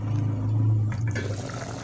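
Water poured into a pot of potato curry, a short gushing splash that swells and then trails off into softer sloshing and trickling, close by with no talk.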